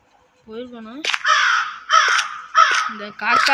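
A crow caws repeatedly at close range, loud harsh calls in uneven bursts, while a person talks between and around the calls.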